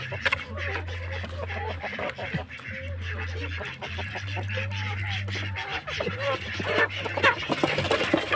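Mixed flock of ducks and meat and village chickens raised together on a farm, feeding on cheap homemade feed, with repeated nasal quacks and honking calls close by, plus scattered clucks and scuffling as they jostle to eat.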